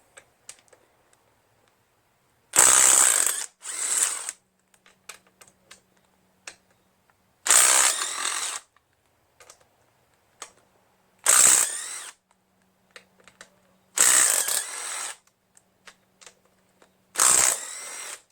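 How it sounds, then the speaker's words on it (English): Ratchet loosening the sump cover bolts on a Briggs & Stratton Intek 21 HP engine, heard as five separate bursts of close, rapid clicking spaced a few seconds apart, with quiet stretches and small handling taps between. "Now we're going to remove the sump cover."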